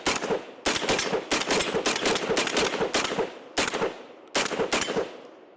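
Genesis Gen-12 10.5-inch short-barreled shotgun firing double-aught buckshot from a 15-round drum magazine, loud rapid shots in several quick strings broken by brief pauses, booming and close with no talking.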